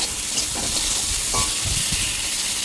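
Ingredients sizzle steadily in a pan with salt and turmeric while being stirred, a loud, continuous frying hiss broken by soft scraping and clinks of the spoon against the pan.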